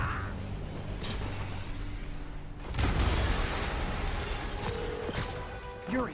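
Explosion in the Marvel's Spider-Man video game, a sudden loud boom at about the midpoint that rises out of a steady game soundscape and rumbles on, with brief metallic clanks and a short swell near the end.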